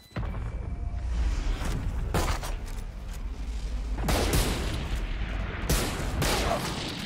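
Gunfire in Valorant cracks out in several sharp bursts over a busy game soundscape, loud and close with broadband blasts recurring every second or two.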